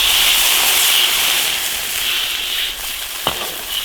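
Loud, steady sizzling as water hits a hot wok of fried chili paste and hotpot base, a continuous hiss with a sharp crackle near the end.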